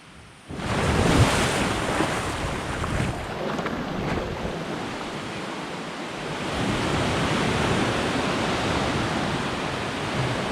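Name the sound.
ocean waves at an Algarve beach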